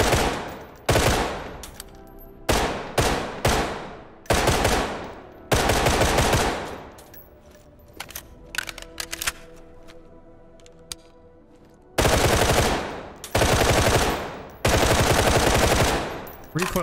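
MK16 rifle fire in the tactical shooter Ready or Not, loud close bursts of rapid automatic shots separated by short pauses, a quieter stretch of faint clicks and handling in the middle, then more sustained bursts.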